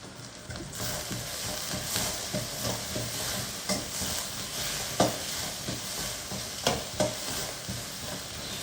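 Ginger, garlic, onion and curry leaves sizzle steadily in a hot pan, with repeated scraping stirs of a spoon at a close, moderate level and no speech.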